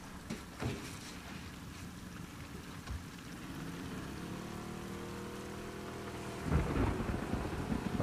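In The Last of Us Part II, thunder rolls and rumbles heavily over steady rainfall, with a loud crack near the end and no talk.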